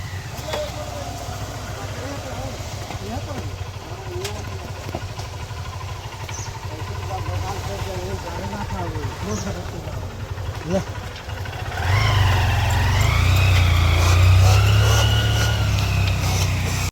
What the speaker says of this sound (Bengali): এই খাড়াই রাস্তা দিয়ে বাইকগুলো উঠছে, দেখো কিভাবে।